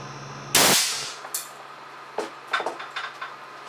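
An air cannon fires a 150-grain hard alloy cast lead slug from a .410 barrel at 325 psi: one sharp loud blast, followed by clattering impacts and debris falling around a bathroom sink.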